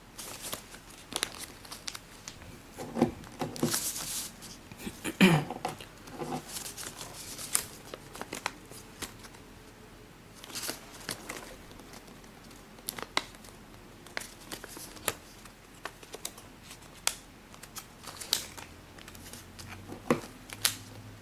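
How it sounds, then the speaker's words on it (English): Origami paper is folded and creased up close, with soft crinkles, rustles and brief sharp crackles scattered irregularly across a quiet background. "So you're folding it right along there so that you end up with a shape like this."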